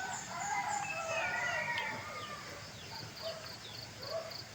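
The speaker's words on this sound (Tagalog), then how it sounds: "Ganda rin ang sound ng mga ibon" A rooster crows in the morning over a dense chorus of chirping birds and clucking fowl, with steady farmyard background noise throughout.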